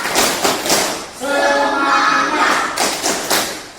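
A group doing the 'tepuk semangat' clapping ice-breaker at a teachers' training session: bursts of rhythmic hand claps and taps, with a stretch of loud chanted voices in the middle, fairly close and lively.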